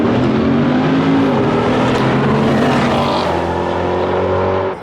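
Two 2020 Chevrolet C8 Corvettes launch side by side in a race, their engines roaring loud and close with a dense, sustained growl that fades slightly at the end; no voices.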